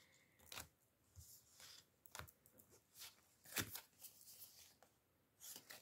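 Tarot cards being drawn and handled for a cartomancy reading, with short papery swishes and snaps of shuffling and flicking in irregular bursts, close and fairly quiet, with no talk.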